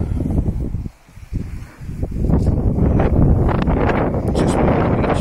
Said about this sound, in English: See, as I say, it's a bit windy,